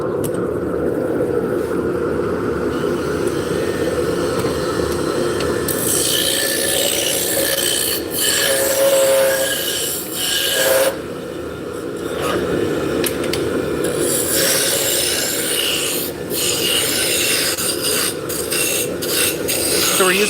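A roughing gouge cuts wood on a lathe, giving a steady, aggressive rasping and scraping that rises and falls in bursts over a constant motor hum. It is close and loud, with no talking.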